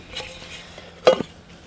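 An Outback Oven baking pan is handled, with soft metallic rattles followed by one sharper clank of metal, close and brief in an otherwise quiet setting.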